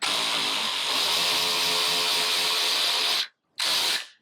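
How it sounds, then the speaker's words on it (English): A power ratchet backs out T40 screws on a Polaris RZR 900S side-by-side: a loud, steady close whir runs for about three seconds, cuts out briefly, then gives one short final burst. "And you can use a ratchet to take them off."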